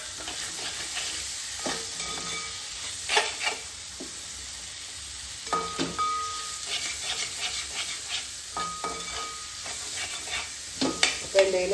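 Crushed garlic, ginger and chopped green chilies hit softened onions frying in a pan for a chicken curry, giving a steady sizzle broken by scraping stirs and spoon clatter, close and moderately loud.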